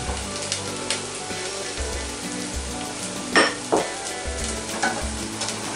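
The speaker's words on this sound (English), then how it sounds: "So we now add the garlic." Garlic sizzling and frying in a hot pan, a steady crackling hiss with a couple of brief louder scrapes from stirring.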